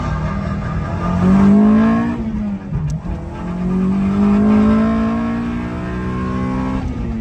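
An ES1 Honda Civic with a swapped-in K20 VTEC engine pulls hard from first into second gear. The loud, close engine note climbs in pitch, dips briefly at the shift, then climbs again.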